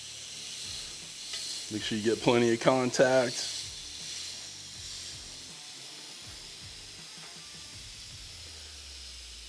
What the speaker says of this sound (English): I'm loving the sizzle.